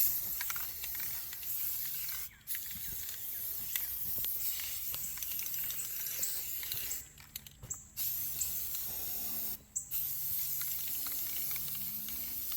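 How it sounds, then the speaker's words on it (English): Aerosol spray paint hissing inside a small wooden hunting fort on a farm, a steady close spray broken by a few brief pauses, running on for several seconds. "we have spray painted it on the inside"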